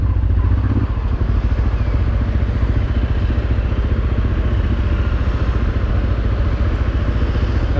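Motorcycle carrying a whole family in Bolivia, its engine running steadily with a loud, continuous chugging drone and rattle for the whole stretch, close up.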